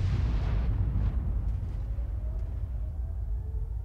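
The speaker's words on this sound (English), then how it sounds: "You can hear the rounds going off from some of the other tanks." Distant tank cannon rounds in the World of Tanks game rumble as a dull, booming explosion that fades into a low, lingering roar, with no voices over it.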